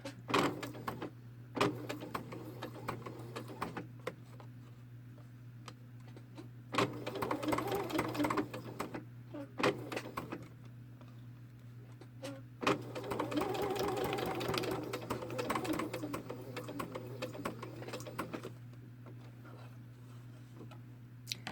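A sewing machine stitches around fins through a hairpin turn with the needle down, running in bursts of rapid mechanical clatter separated by pauses, over a steady low hum, close and moderately loud.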